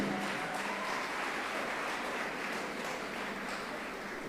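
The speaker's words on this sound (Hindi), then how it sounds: "एक बार इन लोगों के लिए जोरदार तालियां होनी चाहिए" A large audience at a public event breaks into a long, even wash of hand clapping, dense and sustained for over four seconds, heard at a moderate distance with no voices.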